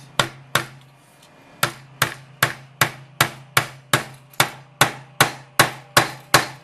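Repeated sharp hammer taps on wooden pegs of a dollhouse-size table on a tile floor, a steady series of close, ringing knocks after a brief pause, with a faint low hum underneath.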